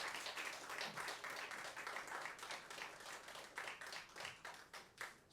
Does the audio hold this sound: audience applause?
yes